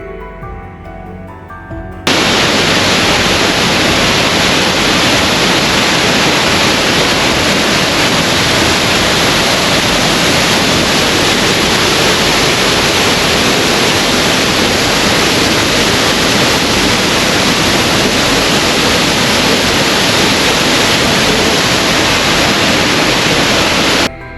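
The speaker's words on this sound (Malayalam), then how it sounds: "താമ്രപരണി നദിയിലാണ് ഈ വെള്ളച്ചാട്ടം സ്ഥിതി ചെയ്യുന്നത്." Thirparappu Waterfalls on the Thamirabarani river roar in the rainy season, a dense, constant wash of rushing water that starts abruptly and stays loud and unbroken throughout.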